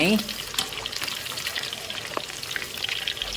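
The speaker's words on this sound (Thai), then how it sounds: "เราก็จะตั้งน้ำมันให้ร้อนๆเหมือนเก่าแล้วก็เอาหมูใส่ มาฟังเสียงกันนะครับ" Sun-dried pork marinated in a ten-ingredient mix hits hot oil and fries with a loud, dense crackling sizzle that pops and spatters continuously up close.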